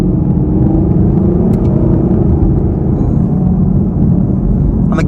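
A Chevrolet Camaro LT1 drives along a back road, its engine rumbling steadily and loudly from inside the cabin with constant road noise, no talking heard.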